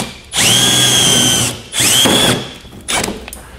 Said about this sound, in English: We're gonna use a 1/4-inch drill bit to drill these out.